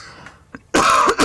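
A single tickly cough bursts out loud and close after a moment of quiet, with a short throat-clearing rasp and a second cough-like push at the end.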